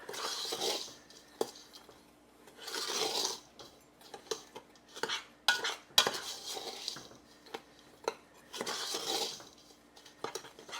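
Sure-Jell pectin, sugar and cinnamon being mixed together in a bowl with a utensil, giving repeated bursts of scraping and stirring against the dish, interrupted by sharp clinks and taps, close up with no talking.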